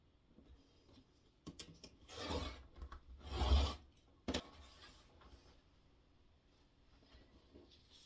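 Rotary cutter slicing through folded quilt fabric against a ruler to make a straight starting edge, heard as two or three brief, close rasping strokes with quieter handling in between.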